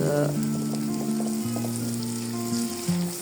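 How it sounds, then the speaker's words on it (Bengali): Onion, garlic and ginger paste fries in oil with turmeric and salt while cooking greens stalks, giving a steady, close sizzle with a faint tonal hum in the background. "এখানে আমি ভালো করে মশলাটা ভেজে নিচ্ছি কষায় নিচ্ছি"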